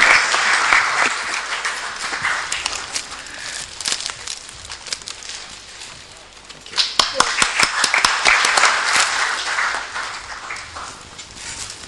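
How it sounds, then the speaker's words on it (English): An audience at a technical session of a policy conference applauds its speakers, a full, sustained round of clapping that dips midway and then swells again with sharper claps near the front. "And a round of applause,"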